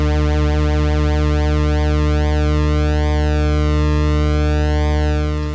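Synthesizer bass holding one sustained low note while pulse width modulation sweeps its upper harmonics back and forth in slow, even cycles, loud and continuous with no voices.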